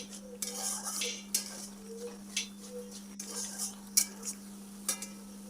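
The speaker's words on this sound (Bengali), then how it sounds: "দিয়ে আবারও ভালো করে মশলাটা কষিয়ে নিচ্ছি।" A spatula stirs spice masala in a pan for paneer chaap, giving sharp metallic clinks and scrapes at an irregular pace over a low sizzle and a steady background hum, close by, with no speech.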